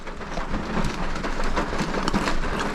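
Monsoon rain drums steadily on a car roof and windows from inside, near Poladpur in the Konkan region, a dense close patter with occasional louder drops, no voices.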